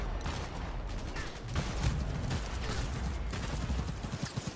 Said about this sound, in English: I can hear, like, gunfire.